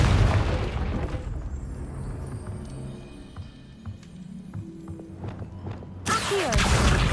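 Confringo blasting spell in Hogwarts Legacy, a loud booming explosion at the start that rumbles off into a low decay with faint clicks and scattered debris, then a second heavy blast bursts in near the end.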